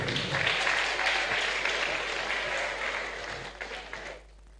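An audience at a media conference applauds the prize winners in a sustained burst of clapping that slowly thins and fades out near the end.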